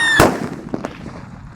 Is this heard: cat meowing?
no